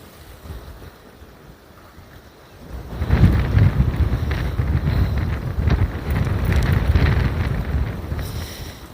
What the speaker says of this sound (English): And the wind is just getting up there, catching the gimbal.